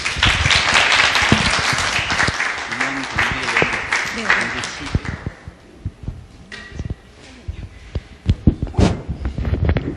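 Studio audience applause on a Korean radio show, steady dense clapping that thins out midway, leaving scattered claps and a voice speaking over the fading end.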